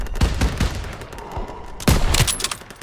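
Gunfire in the Call of Duty WWII battle at Marigny, France, bursts out loud and close as repeated rapid shots, with a dense volley near the end.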